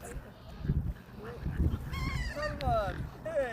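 Ducks being fed give loud, close honks and quacks in quick overlapping calls, with scattered low knocks and shuffling around them.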